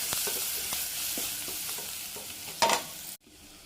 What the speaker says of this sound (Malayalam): നല്ലപോലെ ഇളക്കി. ചെറിയ ഉള്ളി ഇട്ട് കൊടുത്തു.